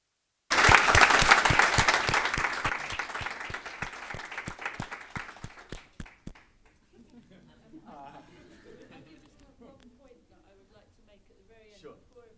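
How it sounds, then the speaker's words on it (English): An audience at a panel discussion bursts into applause, loud and dense at first, then thinning out over several seconds into scattered claps and quiet murmuring voices. "a round of applause."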